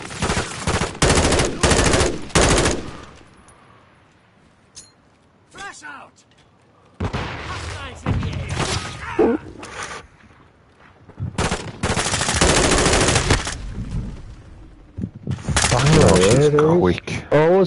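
A light machine gun fires in Modern Warfare II, loud sustained bursts separated by gaps, with someone talking over parts of the shooting.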